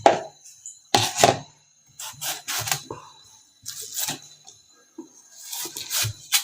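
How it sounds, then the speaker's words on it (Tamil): A knife cuts half a watermelon into small pieces on a board, giving a series of close, crisp chopping and slicing strokes in irregular bursts with short pauses between them. "இதை நல்லா பொடி பொடியாக நம்ம கட் பண்ணி எடுத்துக்கலாம்."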